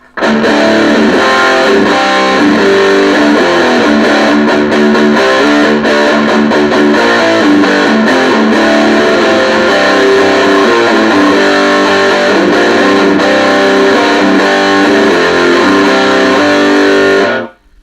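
A heavily distorted electric guitar through a small amp on its distortion channel plays continuously and loud for the whole stretch, thick and saturated, cutting off abruptly at the end.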